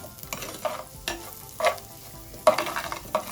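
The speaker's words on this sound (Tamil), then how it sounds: "இப்போ இதை நல்லா இருக்கா கிளறி விடுவோம்." Sugar being stirred into lunu miris, a Sri Lankan onion-chilli sambal, in a hot pan; spoon scrapes and stirs come in irregular bursts over a soft sizzle, close and moderately loud, with no talking.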